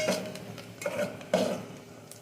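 Onions sautéing and being stirred in a pan, heard as a few scraping, clinking spoon strokes against the pan over a faint sizzle, close and fairly quiet with no talk.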